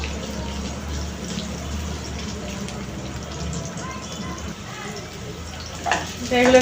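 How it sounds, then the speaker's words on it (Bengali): Chopped onions frying in a pan while cooking chicken curry with papaya, a soft continuous sizzle under someone speaking, with a few stirring scrapes toward the end. "এখন দিয়ে দিচ্ছি পেঁয়াজ কুচি পেঁয়াজ কুচিটাও আমি একটু ভেজে নিব"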